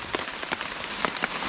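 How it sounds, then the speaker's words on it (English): Steady rain patters on a tarp shelter and on camp dishes at an outdoor bushcraft site, a dense continuous hiss with distinct drop taps scattered throughout. "So the rain is coming down"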